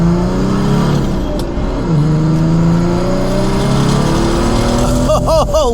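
A 1995 E300 turbo diesel car engine revs up hard and accelerates to about 70 mph, its pitch sweeping upward through the gears, loud and close with steady road and cabin noise underneath.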